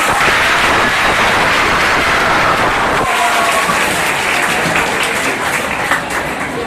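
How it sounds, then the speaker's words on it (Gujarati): An audience applauds prize winners at an Independence Day prize distribution, a dense, loud, sustained wash of clapping that dips slightly midway and carries on without speech. "ખૂબ તાળીથી બધાને વિજેતાઓને"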